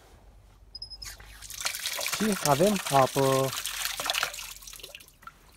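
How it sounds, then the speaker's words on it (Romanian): Water runs from a tap at a mountain trail fountain along a hiking route, a steady trickle beneath someone speaking close by. "Se face aici o cișmea"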